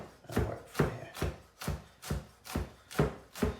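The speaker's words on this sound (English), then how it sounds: "So I'm just going to trim off this edge" Knife trimming the edge of rolled spring greens on a board, eight evenly spaced crisp chops in a steady rhythm, close and clear with no talking.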